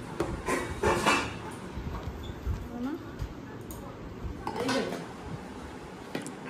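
Pots, dishes and utensils clatter in bursts as a child named Ani cooks tiffin in a home kitchen, with sharp clinks and knocks between quieter stretches and some voices nearby.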